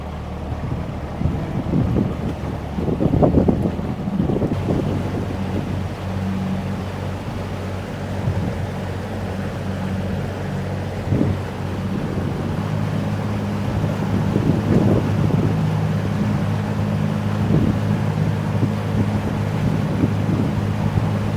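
Low, steady drone of a fishing boat engine running continuously, with buffeting wind noise across the microphone.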